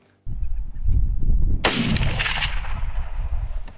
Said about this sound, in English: It was a pretty loud shot